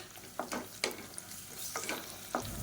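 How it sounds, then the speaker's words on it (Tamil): Ginger garlic paste sautéing with onions in a pan for Tamil tomato rice, a soft frying sizzle broken by a few sharp scraping stirs of a spoon against the pan, quiet and close. "ஒரு டேபிள் ஸ்பூன் அளவுக்கு இஞ்சி பூண்டு பேஸ்ட் சேர்த்து வதக்கி விட்டுக்கலாம்"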